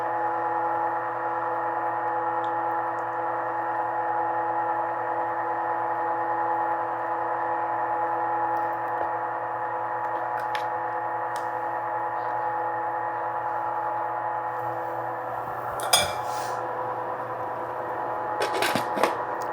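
A home ice cream maker churning cherry chocolate ice cream gives a steady, even motor hum with a low drone throughout, with a few faint clicks and knocks near the end.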